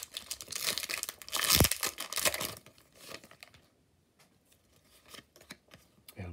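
A Pokémon Crown Zenith booster pack wrapper is torn open up close, a loud burst of crinkling and ripping foil followed by softer rustling, with brief speech nearby.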